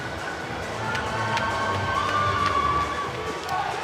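A large crowd cheers steadily at an Olympic men's 4x100m medley relay swim final, a broad, even roar heard at a moderate distance with no clear peaks.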